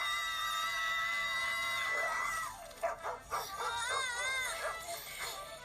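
Cartoon dog from the animated series Angela Anaconda barks and howls in wavering, wailing cries amid a noisy soundtrack, loud and close.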